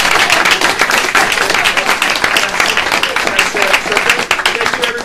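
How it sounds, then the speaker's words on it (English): Loud, sustained audience applause fills the room after a Medicare for All panel discussion, dense clapping holding steady throughout with a few cheers mixed in. "Round of applause."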